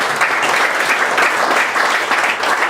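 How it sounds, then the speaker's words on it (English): An audience claps hands steadily at a live Italian American community event, a dense continuous round of applause that stays loud and even throughout, with no voices above it. "Ladies and gentlemen, clap your hands."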